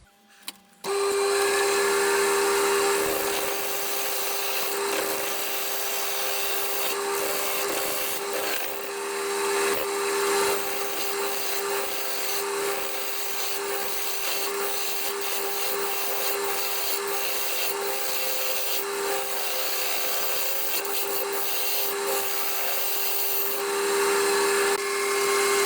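Yew turning on a lathe gives a continuous, loud, rough scraping with a steady motor hum underneath, lasting nearly the whole stretch after a brief quiet start.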